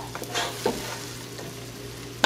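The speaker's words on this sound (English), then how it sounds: "You're doing a gentle stirring, right? Yeah, just like a little gentle fold." A spoon gently folds through cooked rice in a pot, giving soft scraping and light clinks over a faint sizzle, close by and quiet.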